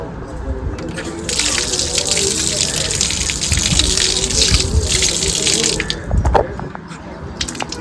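Water gushes steadily from a tap at a temple foot-washing spot, a loud close splashing stream running for most of the stretch, with people talking over it.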